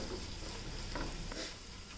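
Ginger and garlic sauté in butter while a spoon stirs them, giving a soft, close sizzle with a few brief scraping strokes, quiet and without talk.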